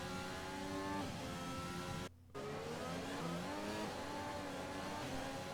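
A race car in the F1 2020 video game spins its wheels, the engine revving in a steady high drone with shifting pitch, briefly cutting out for a moment before resuming.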